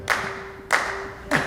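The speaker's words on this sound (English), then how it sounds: "they switch what beat they're clapping on halfway through" Three sharp, close hand claps land on an even beat, like an audience clapping along to a song, with short quiet gaps between them.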